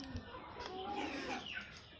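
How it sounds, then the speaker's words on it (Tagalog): Backyard chickens clucking softly at feeding time, faint low clucks close by, mixed with quiet rustling and background noise. "magpakain na naman tayo ng alaga nating mga manok"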